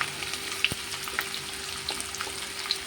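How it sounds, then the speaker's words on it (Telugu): Onion and green chili pieces fry in a pan for beef curry, giving a steady close sizzle dotted with small sharp pops, with no talk. "ఇప్పుడు నేను ఉల్లిపాయ పచ్చిమిరపకాయ ముక్కలు వేసేసి ఫ్రై చేసుకుంటాను"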